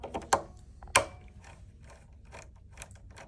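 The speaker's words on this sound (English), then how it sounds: "you will need a 2mm Allen wrench to remove these 2 screws that hold the circuit board in place" A 2mm Allen wrench backs out long screws holding a sewing machine's needle plate sensor circuit board, giving two sharp metallic clicks followed by soft, quiet ticking and scraping up close.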